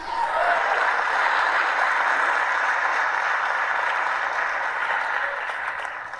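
An audience at a live event gives sustained applause, a dense, even roar of many hands clapping that holds steady for several seconds, then eases slightly near the end.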